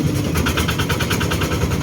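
A homemade converted vehicle's engine runs steadily and loudly, with a dense low rumble and a fast, even pulsing rhythm throughout.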